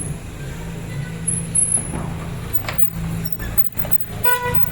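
A heavy road vehicle passes close by at a hill fort gate, with a steady engine rumble, a hiss like air brakes and a short horn toot near the end.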